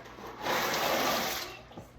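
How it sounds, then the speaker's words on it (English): Water at a rolling boil in a salted pot for noodles on a kitchen stove, a steady broadband bubbling hiss that swells for about a second mid-clip and then eases off, with no talk. "My water's boiling, so I'm gonna go ahead and put my noodles in."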